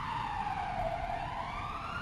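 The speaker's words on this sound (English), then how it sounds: "I am a police car." Police car siren wailing steadily, a continuous tone sliding slowly in pitch, loud and unbroken over low road rumble.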